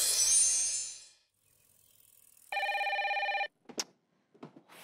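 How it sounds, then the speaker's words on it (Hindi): A telephone bell rings in one short trilling burst after a hiss fades out, followed by a few brief knocks. "फोन बज रहा है, उठा नहीं रहे हो"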